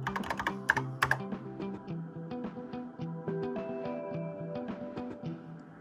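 Rapid keystrokes on a computer keyboard while typing a command into a NABU CP/M shell, dense clicks at first and then sparser over a steady humming tonal background.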